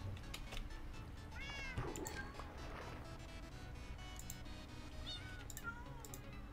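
Cats meowing in the video game Minecraft, several short rising and falling meows spread through the stretch over a faint steady background hum, quiet and close.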